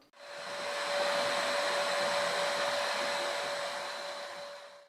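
Close and loud, an Agaro cordless stick vacuum cleaner on high suction roars with a dense, steady rush of air over a constant motor whine, starting abruptly and fading slightly at the end.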